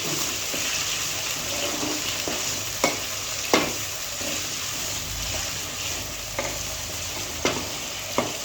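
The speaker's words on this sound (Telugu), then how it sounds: "గోల్డెన్ బ్రౌన్ వచ్చే వరకు ఫ్రై చేసుకోవాలి" Village-style bitter gourd curry cooks in a pan, frying toward golden brown with a continuous close sizzle. A spoon stirs now and then, adding several sharp clinks and scrapes against the pan.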